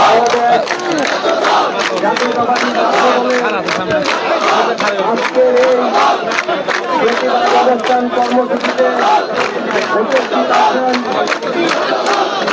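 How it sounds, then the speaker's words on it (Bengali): Chhatra Dal student protesters surround Bangladesh's Election Commission and loudly chant slogans in rhythmic call-and-response, with dense crowd voices rising and falling in steady beats. "সেই ছাত্র দলের সভাপতি রাকিব তিনি কিন্তু স্লোগান দিচ্ছেন"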